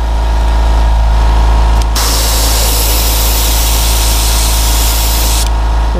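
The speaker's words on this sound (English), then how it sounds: "spray out this olive green" Airbrush spraying olive green paint onto a Klash 9 Low fishing lure during a brown trout repaint, a steady close hiss starting about two seconds in and running unbroken for several seconds over a low compressor hum.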